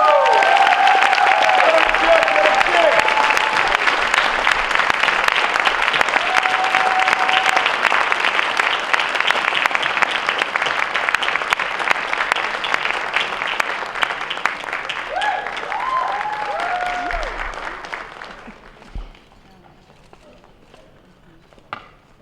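Loud crowd applause at the African Diaspora Awards 2015 as an advocate award is presented, dense clapping with cheers and whoops over it that holds for a long stretch, then tapers off near the end.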